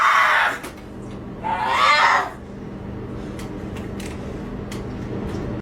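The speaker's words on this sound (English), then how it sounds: "this woman is screaming that she's in pain" A woman in active labour screaming in pain, two loud, strained cries close by, followed by a steady mechanical hum in a hospital room.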